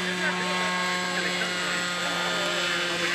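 A radio-controlled model airplane flies at an aero design competition, its steady engine drone sustained and fairly close, with people talking over it.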